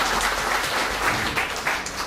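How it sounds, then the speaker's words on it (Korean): A crowd at a political campaign speech for a county head candidate gives a burst of steady applause, dense and sustained for a couple of seconds. "박수 한번 칩시다 여러분."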